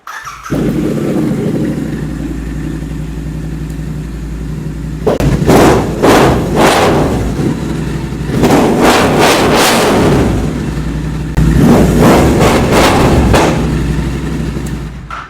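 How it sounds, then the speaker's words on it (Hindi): A used Triumph Trident 660 sits stationary with its engine idling and its exhaust revved in three loud, sharp bursts that settle back to a rumbling idle between them. "अब एग्जॉस्ट की बात अगर कर ही रहे हैं तो आइए इसकी आवाज सुन भी लेते हैं।"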